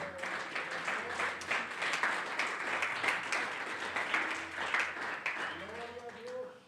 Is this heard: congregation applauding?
yes